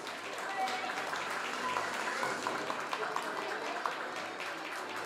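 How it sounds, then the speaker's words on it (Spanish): Audience applause for Katherine Dueñas at a 2019 school graduation party at Colegio La Merced: a dense, steady wash of clapping that holds at an even level for about five seconds, with a voice faintly present in the background. "El aplauso entonces para Katherine Dueñas"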